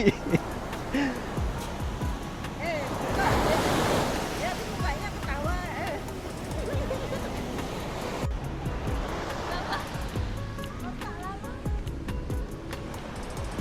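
Surf rolls and washes in continuously on a beach in Bali, Indonesia, with wind buffeting the microphone and people talking over the roar of the waves.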